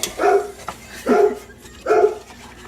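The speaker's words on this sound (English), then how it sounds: "Please excuse my dog." A dog barks three times in separate bursts, fairly close, with short pauses between each bark.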